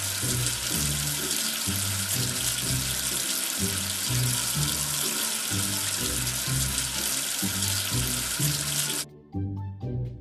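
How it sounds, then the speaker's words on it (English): Running water rinses soap off a letter in a children's English-learning game, a steady bright rushing stream for about nine seconds that stops abruptly, leaving a few faint drips and light music. "Wash away the soap with water."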